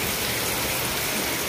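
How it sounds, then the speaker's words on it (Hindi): Heavy rain pours steadily onto a rooftop terrace that is flooding with water, a dense, even hiss that stays constant throughout with no voices. "छत भर गई पानी की, क्योंकि तेज़ बारिश है"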